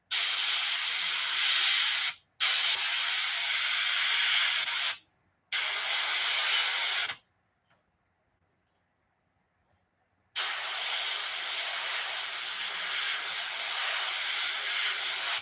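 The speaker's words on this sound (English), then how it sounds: "I'm just spraying my airbrush through a stencil." An airbrush sprays paint through a stencil onto a striped bass fishing lure, a steady loud hiss of air in long bursts with brief cutoffs and a pause of silence before spraying resumes.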